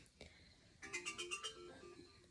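A mobile phone ringtone chiming in a short melodic pattern of bright repeated tones, faint and slightly distant, with a brief click just before it.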